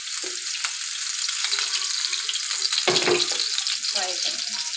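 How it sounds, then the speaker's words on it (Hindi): Chicken seekh kababs sizzle on a griddle in a constant, close, hissing fry, with a soft scrape or thump near the middle and no talking. "ये हमारे कबाब फ्राई हो रहे हैं"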